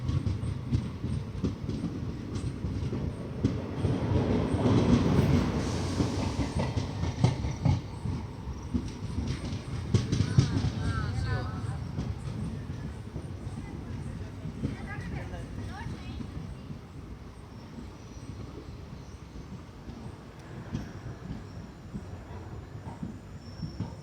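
A passenger train on the Vijayapura–Mangalore route leaves Byadgi station, with a continuous low rumble and rhythmic wheel clatter heard from inside the coach while someone speaks over it.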